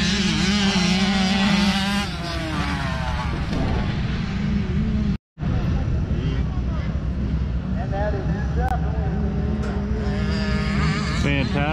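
Motocross dirt bikes racing the last moto of the day, engines whining and revving hard as they pass, loud and close, with a voice talking over the roar.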